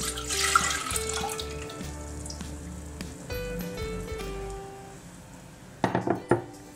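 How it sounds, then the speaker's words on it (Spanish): Milk pours into a bowl as a steady liquid trickle and splash, close and continuous for several seconds, with a few sharp clinks of a utensil or dish near the end. "Vertemos la leche en un cuenco"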